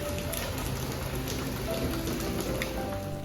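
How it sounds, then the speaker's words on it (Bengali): Heavy rain pours steadily onto a balcony, a dense, continuous hiss of water with no voices. "নিচে ঝমঝম করে জল পড়ছে, পুরো ব্যালকনি আমার ভেজা"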